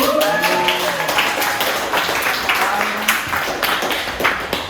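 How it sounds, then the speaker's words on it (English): A crowd at a painting showcase applauds artist Clancy Philbrick: steady, dense clapping that holds at an even level for several seconds, with a few faint voices mixed in. "round of applause for Clancy"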